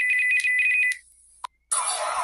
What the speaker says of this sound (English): his phone is ringing for some reason